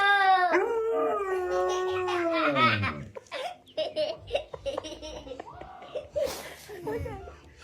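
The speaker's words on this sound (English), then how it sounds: "This is a young lad talking to his dog and his dog talking back." A dog howls long and loud in a rising, drawn-out wail, then someone talks and laughs back and forth with it as the dog answers in shorter yowls, close and clear.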